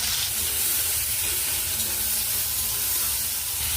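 Food frying in hot oil in a kadai while an egg dish is cooked: a continuous, even sizzle and hiss, close and moderately loud, with no voices.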